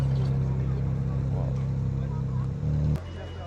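Porsche GT3 Touring passing on a Paris street, with a loud near engine tone that holds steady and then drops in pitch as the car goes by, over faint crowd babble.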